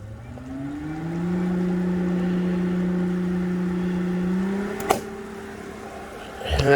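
A Pentair IntelliFlo variable-speed pool pump ramps up in prime mode, a steady rising motor whine that settles into an even hum, with a sharp click near the end.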